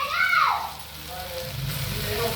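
Vegetables for carrot rice frying in a pan with salt, a steady soft sizzle and crackle running through the whole stretch, fairly close, with a few faint tonal clinks over it.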